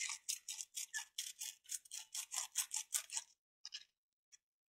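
A blackened soldering iron tip being rubbed clean, a brisk run of rhythmic scratchy scrubbing strokes, close and fairly quiet, stopping abruptly and followed by a couple of short final scrapes.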